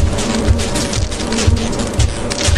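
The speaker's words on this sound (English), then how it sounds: "Dude, bees are gonna kill everyone!" Bees buzzing in the video game Lethal Company: a loud, steady swarm drone with pulsing low throbs, close and continuous, with no voices over it.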